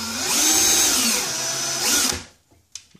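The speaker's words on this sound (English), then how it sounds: "I've got the drill attached to it" A power drill spins a TBI ball screw on a Titan TM25v machine, whirring loud and steady for about two seconds before winding down, followed by a small click.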